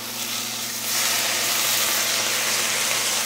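Chopped onion sizzling in a hot pan with a splash of soy sauce, a steady close hiss and crackle of frying with steam, with no talking.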